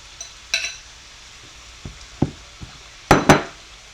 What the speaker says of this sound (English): And I did put one, or actually two green peppers out of my garden. So we got some green peppers, some yellow and red in there. And we're going to dump that into our mixture.